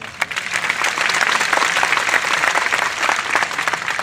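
A crowd at an election rally in Rajsamand breaks into sustained clapping, a dense, moderately loud patter that swells slightly and continues for about four seconds with no speech over it.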